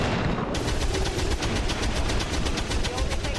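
Sustained automatic gunfire in the video game XCOM 2 as a soldier shoots an enemy, a loud rapid rattle of shots running continuously throughout.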